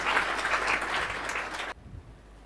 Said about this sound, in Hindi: मैं चाहूँगा कि आप सभी जोरदार तालियों से स्वागत करें